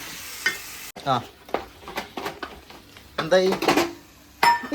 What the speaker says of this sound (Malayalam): വെളുത്തുള്ളി ഇഞ്ചി ഒന്ന് ചതച്ചെടുത്തിട്ട് നന്നായിട്ട് പച്ചമണം മാറുന്ന വരെ ഇളക്കി കൊടുക്കാം